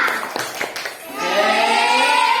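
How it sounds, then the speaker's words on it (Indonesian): A classroom group does a quick rhythmic spirit clap, a short burst of sharp claps, then breaks into a loud shouted group chant that carries to the end. "Sekali lagi, tepuk semangat."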